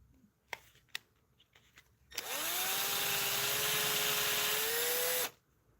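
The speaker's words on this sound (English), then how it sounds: "We definitely need to chamfer that hole in a little bit more so the screw head sits flat." A power drill chamfers a screw hole in wood so the screw head sits flat, running as one steady close whine for about three seconds after a few light knocks and clicks.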